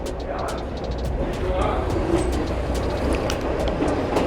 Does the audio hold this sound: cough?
no